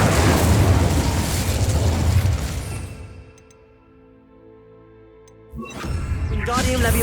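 A fire spell bursts out in the Hogwarts Legacy game as a loud, crackling whoosh of flame that fades over a few seconds into quiet tonal hum and chimes, before another fiery burst erupts near the end.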